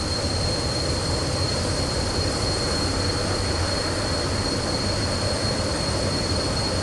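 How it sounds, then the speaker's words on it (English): F-16C jet in a flight simulator game rolling for takeoff with afterburner, a dense, loud, steady roar with a high whine on top, continuous throughout without talk. "release the brakes and then engage the afterburner to reduce the runway rolling distance"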